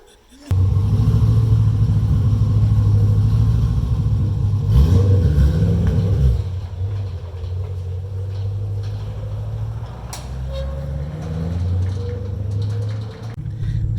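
An LS3 V8-swapped Subaru BRZ driving, with a loud, deep engine drone that surges and revs, eases off midway, then builds again, while a voice talks over it.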